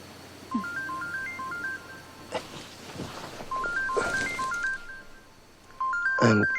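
A phone ringtone plays a stepped electronic melody that repeats several times, with some rustling and background sounds between the phrases and a louder burst near the end.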